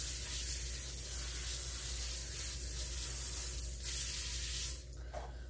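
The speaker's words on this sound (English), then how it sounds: "I'm going to spray my racks just so the chicken doesn't stick to it." Cooking spray hisses steadily onto oven racks in a home kitchen as the oven heats to 425, a continuous close spray lasting several seconds before cutting off abruptly near the end.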